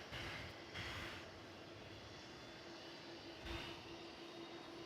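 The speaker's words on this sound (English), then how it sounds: "That, I believe, is American Flight 679 and Airbus A321, which will be lifting off for Phoenix shortly" American Airlines Airbus A321 jet taking off at DFW Airport at night, a faint, distant steady roar with a few brief louder swells.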